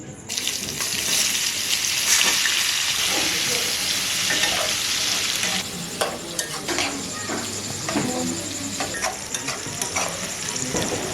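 Onion frying in hot oil in a pan, a steady loud sizzle that later thins into scattered crackles and scraping stirs, close and without talk.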